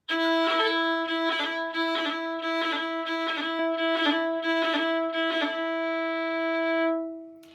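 Fast roll ornament played with a third-finger trill on top and a first-finger warble, a steady sustained tone with quick regular pulsing cuts about every half second, close and alone, fading out at the end.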